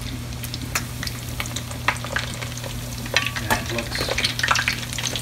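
Bluefish cakes about an inch thick fry in half an inch of oil and get flipped. A steady close sizzle runs throughout, broken by sharp scraping clicks of the spatula and a brief spoken comment.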